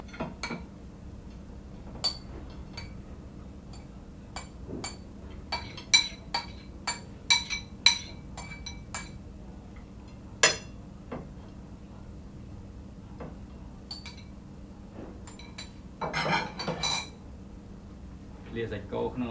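Cambodian beef lap, cooked beef dressed with red chili, is spooned into a serving dish. Light, scattered clinks of cutlery and dishware sound close by at uneven intervals over a low background hum.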